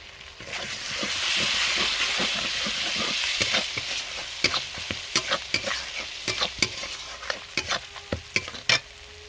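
Spice paste with cumin powder and ground fennel is fried and stirred in a pan for a Bengali vegetarian giant taro and potato curry. A dense sizzle comes first, then sharp, rhythmic scrapes and knocks of a spatula against the pan.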